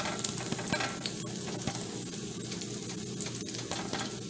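Pancake batter cooking in a pan for strawberry banana roll ups gives a steady, close sizzle that holds even throughout, with no talking.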